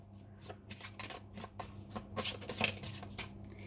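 Tarot cards being shuffled and drawn by hand, with a series of quick, close, papery riffling bursts in an uneven rhythm over a faint low hum.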